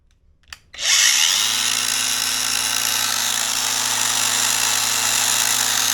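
A Parkside cordless angle grinder with a 20,000 RPM replacement motor spins up from silence after a brief click, then holds a loud, steady, high-pitched whine at full speed with no talk.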